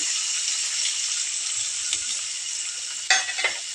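Onions and green chillies fry in hot oil with fenugreek seeds, giving a steady close sizzle throughout, with a few clattering stirs near the end.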